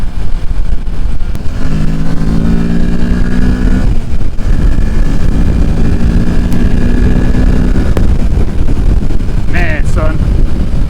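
A 2023 Kawasaki Ninja 650 motorcycle accelerates hard through the gears, its rising engine note climbing in two long pulls with a gear change between, loud and close under heavy wind roar, ending with a brief sharp burst.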